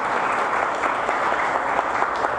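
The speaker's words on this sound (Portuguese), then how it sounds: "Quem crê, aplauda Ele bem forte." A church congregation at an Easter service applauds loudly and steadily, a thick wash of many hands clapping close and continuous throughout.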